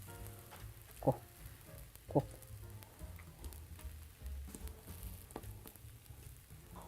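Hotteok, Korean sweet pancakes, fry in an oiled pan with a steady soft sizzle, broken by two sharp clacks near the start, with no talking.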